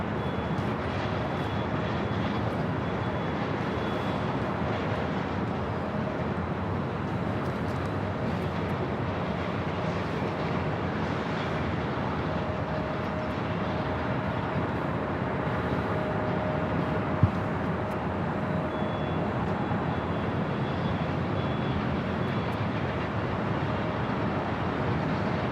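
An airliner taking off from the south side at Los Angeles LAX airport, a distant, steady broadband engine roar that holds evenly throughout with no talk.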